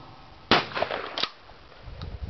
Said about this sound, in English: Then shooting a shotgun.